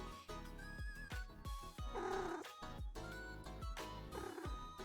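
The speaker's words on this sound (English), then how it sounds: "Cat goes brr." A cat purrs in the cozy video game Minami Lane, a steady rumbling purr that runs throughout under soft background music, with pulsing swells and no speech.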